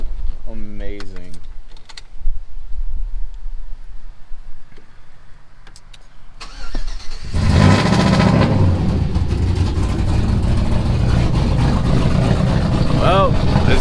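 A pickup truck's cold engine cranks and catches, then runs as a loud, steady rumble with revving, following a stretch of quiet clicks and light movement.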